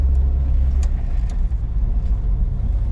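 A Hudson Hornet drives on a dirt circle track, its engine a loud, close, continuous rumble with deep low-end growl and a few brief higher rattles.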